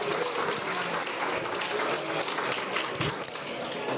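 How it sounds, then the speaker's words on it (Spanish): Steady, sustained applause from an audience at a Dominican forum on water security, a dense even wash of clapping with faint voices mixed underneath. "comunicadora dominicana Nairobi Viloria, para quien pido un fuerte aplauso"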